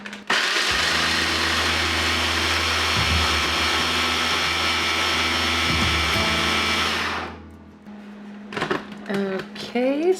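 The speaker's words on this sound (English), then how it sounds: "I'm going to put it in my food processor, and we're going to chop these up." A food processor chops pecans with a loud, steady whirring roar that runs several seconds with brief pulses, then cuts off, followed by clattering and handling noises.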